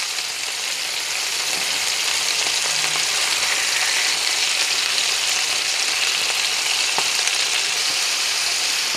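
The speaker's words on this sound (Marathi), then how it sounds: "आता दुसऱ्या साईडनी सुद्धा मी ह्याच पद्धतीने परतून घेणार आहे." Chicken leg pieces fry over a high gas flame, a steady close broadband sizzle running unbroken throughout, with a couple of faint clicks of utensils.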